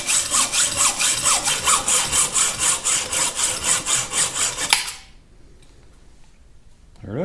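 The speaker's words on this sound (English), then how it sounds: "My bandsaw is a bit small, but I'm still thankful for getting me that far anyway." A small bandsaw cuts through heavy-wall metal tube in a workshop, making a close, steady rasping cut that pulses in quick rhythm and stops abruptly near the end, leaving a quiet room.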